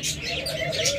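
Close, continuous cooing from a tame hunting dove bred from a domestic and foreign cross, a soft repeated call with a few brighter chirpy notes, no one talking.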